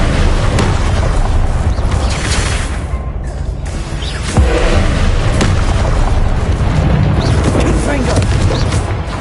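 Incendio fire spell unleashed in the Hogwarts Legacy video game, producing a loud, continuous rumble of booming bursts and crackling flames with sharper hits scattered through, and game voices in the mix.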